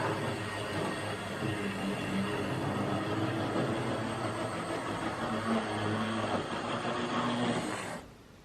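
A small Hornby model train rumbles steadily along its track with a continuous rattling hum, then suddenly cuts out as it stops at the station near the end.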